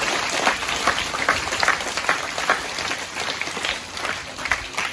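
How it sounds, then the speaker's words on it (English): Applause from an audience at a school presentation day, a sustained dense wash of clapping from a crowd that swells and pulses slightly for several seconds, with no voices over it. "Let's give our outgoing captains another huge round of applause"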